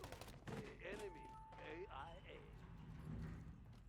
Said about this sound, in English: 3 people shooting at me.